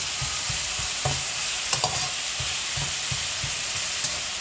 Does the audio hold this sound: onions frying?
yes